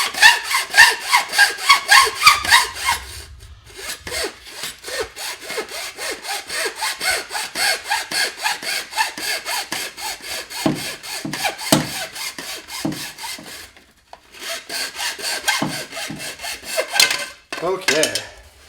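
A handsaw cuts through a plastic sink drain pipe in quick, even back-and-forth strokes, loud and close, with a few short pauses between runs of strokes.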